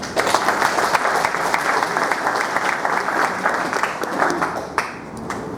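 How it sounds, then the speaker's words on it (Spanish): Loud, sustained applause from an audience at a book presentation in a district hall, many hands clapping in a thick, even roar that holds steady and tapers near the end. "para quien pedimos también fuertes aplausos"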